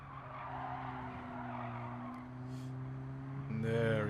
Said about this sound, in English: Hard brake.